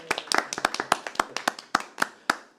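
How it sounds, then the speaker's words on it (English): Small group clapping after a town board of selectmen meeting, about twenty distinct handclaps in an uneven sparse rhythm, fairly close and moderately quiet, with no talk. "Round of applause for John."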